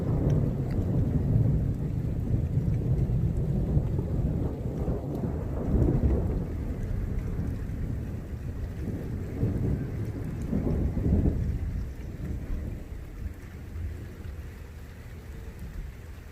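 Deep thunder rolls and rumbles through a non-severe thunderstorm, layered over steady rain, with swelling peaks around the middle of the stretch before easing off.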